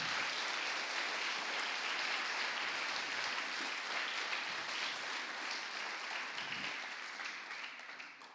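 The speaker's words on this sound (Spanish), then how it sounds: "Dale un aplauso al Señor, por favor" Sustained applause from a large church congregation fills a hall, steady and dense, then gradually tapers off toward the end.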